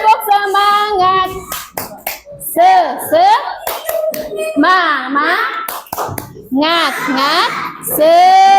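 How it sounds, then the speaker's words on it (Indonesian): Children in a primary school classroom chant and clap a rhythmic cheer together, sharp hand claps punctuating their sing-song voices throughout, with a teacher's voice also present. "Tepuk semangat."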